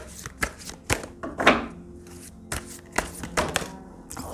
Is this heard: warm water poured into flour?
no